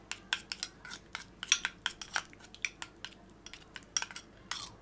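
A spoon stirs pepper paste as it melts in vegetable oil in a pan, giving a steady run of sharp metallic clinks and scrapes at an uneven rhythm, close and fairly clear with no talking.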